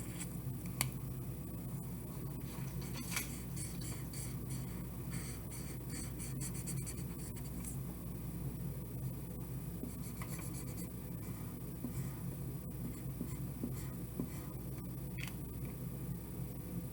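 Amino acid shapes on a paper worksheet are colored in blue, with continuous faint scratchy rubbing and scribbling strokes. Quiet and close, with a few clicks along the way.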